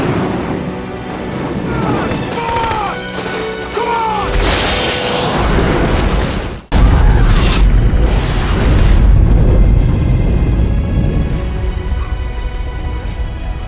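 Bombs exploding in a war film scene, deep booms and crashes with one sharp loud blast midway followed by rumbling debris, alongside shouting voices and whistling sounds early on.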